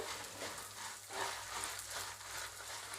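Ingredients sizzle and fry steadily in a pan for tamarind chutney (chinthakaya pachadi), a continuous crackling hiss at close range with no talking.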